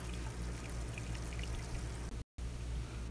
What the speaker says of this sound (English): he just pouring this dirty water into a tank